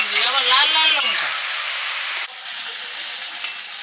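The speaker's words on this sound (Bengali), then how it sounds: "মাছের ডিমের বড়াগুলো ভেজে নিচ্ছি" Fish roe fritters fry in hot oil, a loud, dense sizzle and hiss that eases slightly partway through, while a person talks over it.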